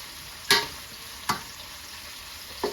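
Mushrooms sautéing in a pan for Salisbury steak, a steady soft sizzle with three sharp scraping stirs spaced apart, close and moderately loud, no voices.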